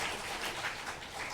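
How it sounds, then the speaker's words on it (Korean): A congregation applauds the church choir and its conductor during a Sabbath worship service, a steady wash of hand claps heard at a modest distance without voices. "우리 찬양대 지휘자와 또 우리 찬양대원들에게 뜨거운 박수 한번 보내주시겠어요?"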